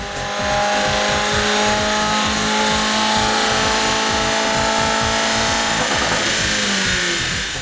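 A Subaru WRX with a Remark axle-back exhaust roars steadily at high revs on a dyno, a deep throbbing drone with a rising pitch toward the end, no voices.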